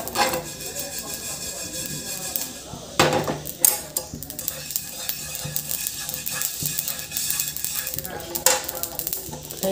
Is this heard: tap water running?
no